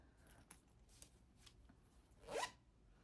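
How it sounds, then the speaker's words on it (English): A rose-gold zipper on a small knitting project bag is pulled in one quick, close rasp after some soft handling taps and rustles. Nobody speaks. "The zipper is like a rose gold."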